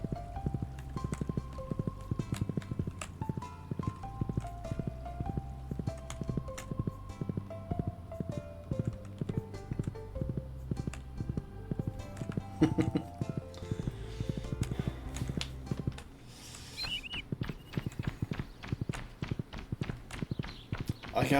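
A horse trots in the farming video game Stardew Valley, making a rapid, regular clip-clop of hooves over a looping game soundtrack. The hooves grow sparser toward the end, with no talking.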